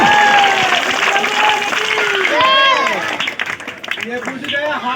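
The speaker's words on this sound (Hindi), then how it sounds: "ताली" An audience claps in a dense burst of applause mixed with crowd voices and chatter, fading to scattered claps.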